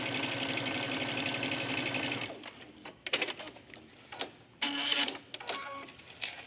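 A sewing machine stitches a belt for a trench coat, first running in a continuous fast whirring burst, then stopping and restarting in short uneven bursts with clicks and pauses between them, close and fairly clear.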